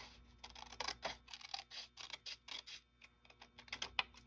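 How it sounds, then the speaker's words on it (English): Scissors snip through a paper trifold tag in a quick, irregular run of close, crisp cuts with small pauses between them, with no talking. "I'm just gonna trim it with my scissors."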